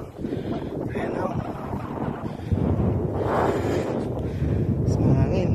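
Wind blows hard across the microphone at an outdoor fishing spot by the water, a steady rough rumble that strengthens partway through, with brief talk mixed in.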